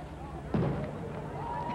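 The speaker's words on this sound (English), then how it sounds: "Some fireworks going off, people in tuxedos and kayaks, and carrying champagne out to meet Dennis." Fireworks bursting over a harbour during the 1987 America's Cup homecoming celebration in Perth, Australia, with a single distant boom rising over a steady murmur of crowd and ambient noise.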